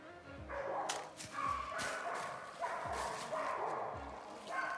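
Dogs bark and yip at a pig stuck down in a creek beside an Ozark hiking trail, coming as repeated, somewhat distant barks over outdoor ambience, with people talking nearby.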